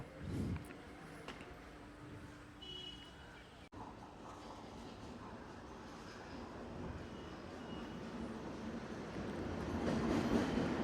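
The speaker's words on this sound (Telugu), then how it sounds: "వ్యాప్ 7 లోకోమోటివ్ తోటి వస్తుందండి." A train hauled by a WAP-7 electric locomotive passes through the renovated Pithapuram railway station without stopping, a rising wheel rumble that grows louder and closer toward the end, with a crowd of waiting passengers faintly audible.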